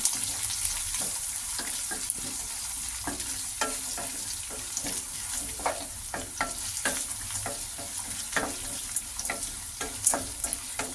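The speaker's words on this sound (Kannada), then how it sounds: "ಕಟ್ ಮಾಡಿರೋ ಅಂಥ ಈರುಳ್ಳಿನ ಸೇರಿಸ್ಕೊತಾ ಇದ್ದೀನಿ ಈಗ ಇದನ್ನು ಮಿಕ್ಸ್ ಮಾಡ್ಕೊಳ್ಳೋಣ" Chopped onions stir-fried in a pan of poha tempering with peanuts and urad dal, a steady close sizzle broken by repeated scraping clicks of a spatula, with no voices.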